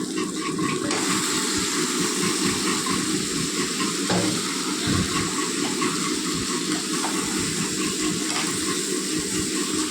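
Marinated chicken sizzles and hisses steadily in hot spiced masala for a home-style chicken curry, with a dense, continuous frying noise and faint stirring scrapes throughout, close up and without speech.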